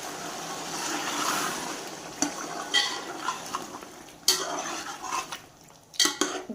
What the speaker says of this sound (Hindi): अब इसमें हम दही डाल देंगे।